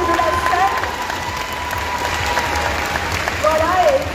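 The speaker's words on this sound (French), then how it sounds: "vous pouvez encore l'applaudir très fort le temps qu'elle sorte de la scène" Audience applause for a cosplayer leaving the stage at the Bordeaux Geekfest cosplay contest, a steady wash of clapping with some crowd noise, whistles and voices mixed in throughout.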